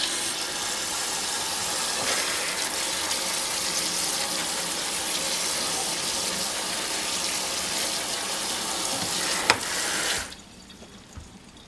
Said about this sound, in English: When using canned beans in any recipe, you always want to rinse them